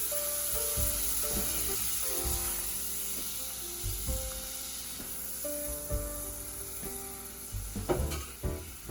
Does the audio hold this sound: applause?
no